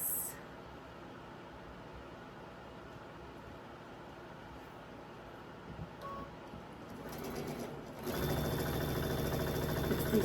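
A home sewing machine runs quietly with a steady mechanical hum while stitching quilt half square triangles for a floral state block, then grows louder toward the end.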